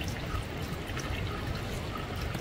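Filtered water draining out of a bottle through its filter medium, a soft continuous trickle and patter of flowing water, faint and close, without speech.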